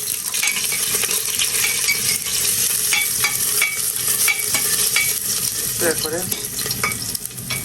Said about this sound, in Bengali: রসুন কুচিটা দিয়ে দেবো। আর আমি আজকেও একবারে কষিয়ে দেবো